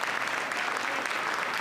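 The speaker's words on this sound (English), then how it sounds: "Let's give them a round of applause too." Audience at a documentary screening and panel on Colegio César Chávez claps in steady, dense applause throughout, with no voices over it.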